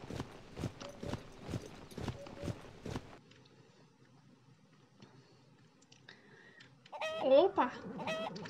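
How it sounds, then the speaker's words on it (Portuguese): Chickens in the video game Horsez cluck in a short burst near the end, loud and close, after a run of rhythmic hoof clip-clops and quieter ambience. "Opa! Galinha."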